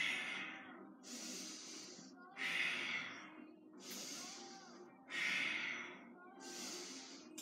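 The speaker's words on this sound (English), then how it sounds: "Inhaling, exhaling." Slow, deliberate breaths during a yoga exercise for the lymph glands: six alternating inhales and exhales, each lasting about a second, close and fairly quiet with a breathy, nasal edge.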